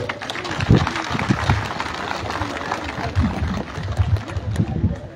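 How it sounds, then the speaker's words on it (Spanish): Applause from the audience at a regional meeting of Peru's peasant patrols (rondas campesinas), uneven clapping with some louder bursts and crowd murmur mixed in across the whole stretch. "Fuertes aplausos, compañero."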